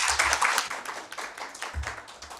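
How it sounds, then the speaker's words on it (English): Scattered clapping from a small audience at an International Day of the Girl Child gathering, uneven and fairly close, with separate hand claps and taps rather than a full ovation. "Let's give them a round of applause,"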